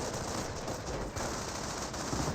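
Rapid gunfire from a Company of Heroes battle, with dense overlapping machine-gun bursts and rifle shots forming a loud, continuous barrage with no pauses.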